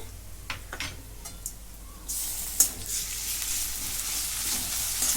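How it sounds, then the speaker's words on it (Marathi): Onion with ginger-garlic paste sizzles and fries in a pan, a soft crackle that swells into a louder, steady hiss midway, with a few stirring knocks and no talking. "कांदा चांगला ब्राऊन होईपर्यंत भाजून नाही आता आलं लसूणची पेस्ट"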